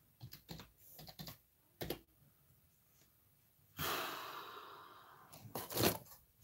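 Bursts of typing on a computer keyboard, clicking in short irregular runs with pauses, while someone breathes and sighs nearby; a louder rustling burst midway.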